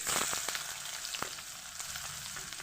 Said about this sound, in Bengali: দুটো বড় সাইজের পেঁয়াজকে আমি কেটে নিয়েছি পেঁয়াজগুলোকে আমি সুন্দরভাবে ভেজে নেব